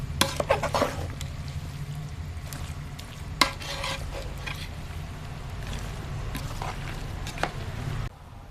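Mango pickle being stirred and mixed in a pan, a continuous soft sizzle with scraping spoon strokes, ending abruptly.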